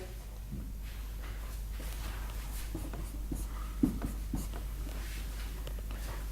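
Pen scratching on paper as number series are written down by hand, soft repeated strokes and taps against a steady low hum, close but quiet.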